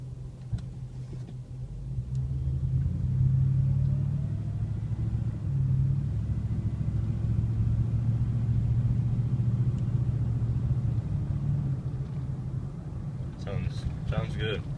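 A truck fitted with a Flowmaster Super 44 exhaust accelerates at medium speed and medium RPM, heard from inside the cab. A deep, throaty rumble swells and holds for about ten seconds, then eases off.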